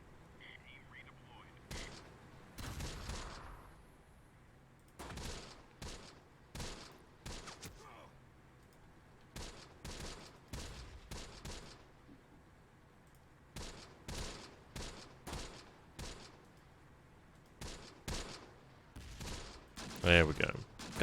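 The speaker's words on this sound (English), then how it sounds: "Should have a barrage coming down shortly" Artillery barrage in the game Close Combat: The Bloody First, repeated bursts of distant booming impacts in clustered volleys separated by short gaps, some heavier than others, with faint talk under them.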